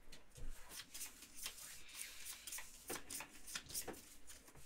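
A deck of cards for the Gloomhaven board game being shuffled on a table, a run of quick, close riffling bursts that repeat steadily with faint voices in the background.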